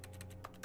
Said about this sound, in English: Why is there keyboard sounds?